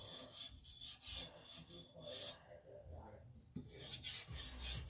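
A knife is drawn lightly across a soft natural whetstone, giving quiet, close rasping strokes in an irregular rhythm with short pauses and no talk.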